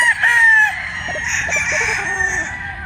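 A Sweater Boston gamecock with a straight comb crows loudly and close, one long strained call with a few clucks trailing after.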